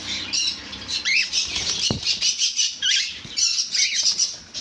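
Cockatiels squawk repeatedly in shrill bursts, with wings flapping and a sharp knock partway through.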